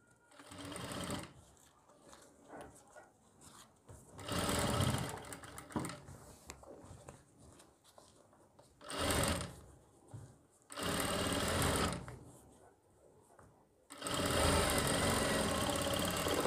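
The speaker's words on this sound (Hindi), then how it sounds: "अब इस पर लगा देंगे हम ऐसे सिलाई" A sewing machine stitches a front collar neckline in several loud, rapid bursts of whirring stitching, each a second or two long. Quieter pauses of handling the fabric fall between the bursts.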